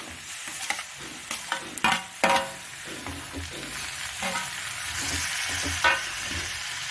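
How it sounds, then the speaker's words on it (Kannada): Tomato frying with bitter gourd in oil, a bright close sizzle with several clattering stirs and scrapes of a spatula against the pan, no one speaking. "ಟೊಮೊಟೊವನ್ನು ಹೀಗೆ ಚೆನ್ನಾಗಿ ಮಿಕ್ಸ್ ಮಾಡಿ, ಈಗ ಇದನ್ನು ಒಂದು 2 ನಿಮಿಷ ಹೀಗೆ ಫ್ರೈ ಮಾಡ್ಕೊಬೇಕು"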